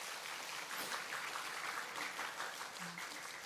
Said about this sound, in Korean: 우리 목사님 잘하시라고 박수 한번 드립시다.